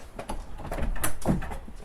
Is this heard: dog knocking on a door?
yes